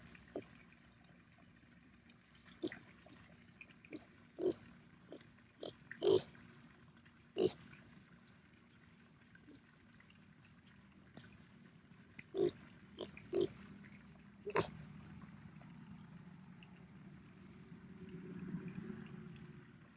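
A pig on a homestead gives short grunts and snorts, scattered irregularly and fairly close, over a low steady outdoor background that swells slightly near the end.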